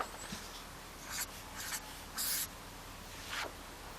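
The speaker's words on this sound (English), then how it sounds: "You can also write on it." Writing on the grippy precision surface of a Hypnos desk mat: a pen scratches and rubs in short close strokes, with a few louder bursts spaced across four quiet seconds.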